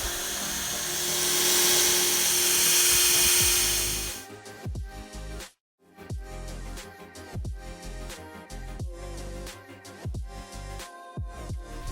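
A power drill whines loudly and steadily while drilling headboard panels, then cuts off and gives way to a series of short, punchy bursts repeating at a quick, uneven rhythm.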